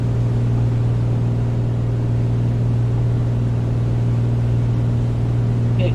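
An A2A Piper Comanche 250 engine in Microsoft Flight Simulator drones at a steady, even pitch throughout, a constant near hum with no voices over it.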